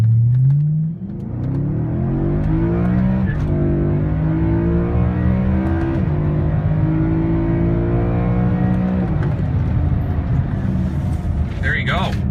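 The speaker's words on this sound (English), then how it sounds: "you got to hear this exhaust" A 2009 BMW M3 DCT with a Remus exhaust revs hard, its loud rising and falling engine note climbing through several sweeps and settling into a sustained throaty drone, close and dominant.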